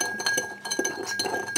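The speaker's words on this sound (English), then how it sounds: "Just give that a good old stir." A spoon stirs homemade cola in a glass, ringing out in a quick run of bright, close clinks against the side, repeated irregularly with no speech.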